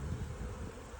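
Honeybees at an open hive during a May brood check in Alaska, a steady low buzzing hum close by, continuous and fairly faint with no talk.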